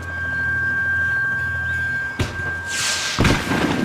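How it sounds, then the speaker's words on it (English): Fireworks burst in Max Payne 3, with a deep thump followed by crackling bright explosions, then another boom, over a steady hum of in-game background sound. "The fireworks display was clearly in my honor"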